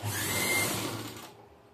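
A plain domestic sewing machine runs a straight stitch along the lower edge of a saree fall, a steady whirring motor that holds for about a second before fading out.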